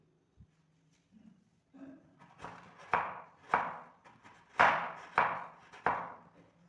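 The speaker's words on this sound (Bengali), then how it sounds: "বন্ধুরা তারপর আমি এই খেজুর গুড়টাকে পাতলা পাতলা করে কেটে নেব।" Knife slicing a block of date-palm jaggery into thin pieces on a board, a series of about six crisp, evenly spaced cuts after a few soft taps, close and clear with no talking.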